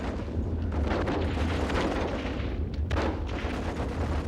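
Dense WW1 battle-scene gunfire from a 1985 Australian war drama, with rapid overlapping machine gun bursts and booming blasts forming a loud, continuous barrage with no pauses.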